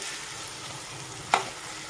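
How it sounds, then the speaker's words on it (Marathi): Masala with eggplant and potatoes fries in oil in a pan, a steady soft sizzle with one sharp spoon knock against the pan, close by and with no talking. "मसाला आपला छान इथे भाजून झालेला आहे"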